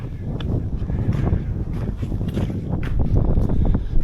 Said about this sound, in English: it's a bit more windy up here